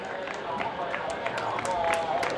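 Scattered clapping from a crowd at an athletics medal ceremony for the men's 60-and-over 800m rings out while a voice talks steadily over it in Spanish.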